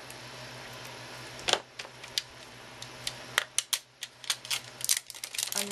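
Sharp crisp clicks and snips as plastic packaging around Distress Ink pads is slit open, starting with one louder cut and then a quickening run of close, bright ticks over a faint steady hum.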